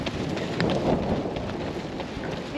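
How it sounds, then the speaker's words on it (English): Wind blows outdoors along a road, a soft gusting rush that swells briefly and buffets the microphone at moderate level. "It's pretty windy today"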